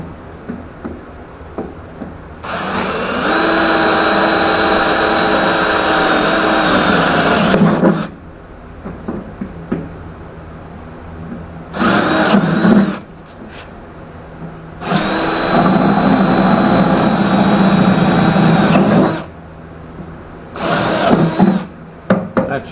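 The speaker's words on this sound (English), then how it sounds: "I need to drill them out from the back side." A power drill drills out rivets from the back of a metal toolbox, whining in several long bursts with short pauses between, loud and close, with faint clanks in the gaps.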